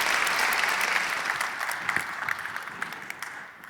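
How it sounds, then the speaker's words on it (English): Applause from a conference audience at an insurtech showcase, a brisk crackle of many hands that is fairly loud at first and gradually fades over a few seconds. "Give an applause."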